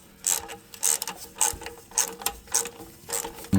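A ratchet wrench tightens the starter bolts on a 1997 Chevrolet Silverado 1500, giving about a half-dozen quick clicking bursts in an even rhythm, close and fairly loud with no talk.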